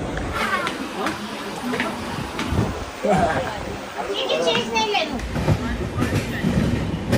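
The Indrayani Express passenger train rumbles and rattles along at close range, with people talking over the clatter.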